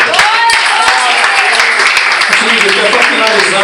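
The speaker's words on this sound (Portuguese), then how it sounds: "Aplauda o Senhor, igreja." Church congregation claps steadily in praise during a service, dense continuous applause with sharp individual claps, loud and close, while a voice speaks over it.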